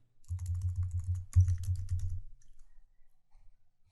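Someone types on a computer keyboard in two quick, close runs of keystrokes separated by a short pause, fading to near silence at the end.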